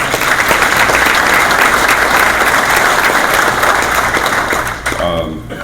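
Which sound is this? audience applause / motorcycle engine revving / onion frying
audience applause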